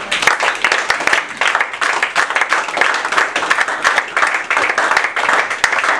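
A church congregation claps and acclaims the Lord at a worship service, with dense, steady rhythmic applause and scattered sharp claps that continue throughout and drown out any voices.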